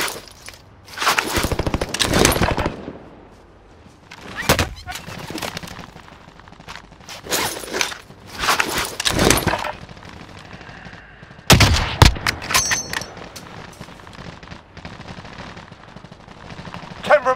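Bursts of automatic gunfire from Call of Duty Warzone, a battle royale, crack out in several loud clusters separated by short quiet gaps, with single sharp shots between them and occasional brief voice callouts.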